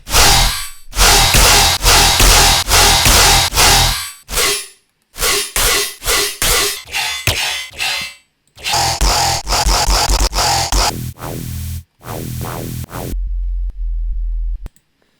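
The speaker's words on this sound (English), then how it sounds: "This is how the main Tearout Dubstep Drop sounds like." A loud, aggressive tearout dubstep bass drop with harsh, distorted growls in choppy rhythmic bursts, punctuated by brief gaps, ending on a sustained low rumble.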